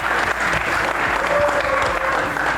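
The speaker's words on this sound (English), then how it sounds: "Give them a big round of applause." Audience at an esports championship LAN event applauding the Kansas City Outlaws, a dense, steady round of clapping with some crowd noise lasting the whole moment.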